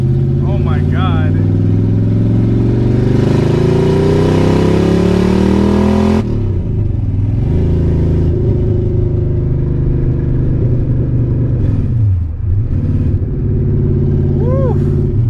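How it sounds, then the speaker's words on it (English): A Nissan 300ZX with a swapped VH45 V8 on open headers drives and revs loudly, the engine note climbing through gears, dropping and rising again with raspy, harsh exhaust, very close, while people talk and shout over it. "It's loud as hell. We have no exhaust on right now. It's open headers."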